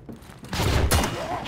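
A loud burst of gunfire in the video game Heroes & Generals, a sniper shot with a sharp crack and a booming tail lasting about a second, with a voice faintly present.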